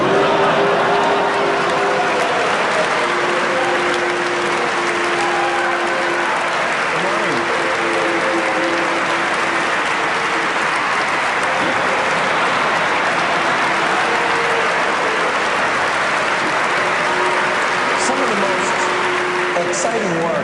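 A large keynote audience at an Apple event reacting with sustained crowd noise, a dense roar of voices and scattered applause filling the hall throughout, with tonal murmurs and shouts rising within it.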